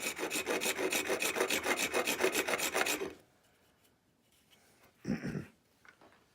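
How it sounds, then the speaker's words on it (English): Metal file rasping on a part of a swivel breech rifle kit: about three seconds of rapid, rhythmic back-and-forth strokes, close and loud, then near quiet with one short knock and faint handling sounds. "I'm going to switch to a shorter file here pretty quick"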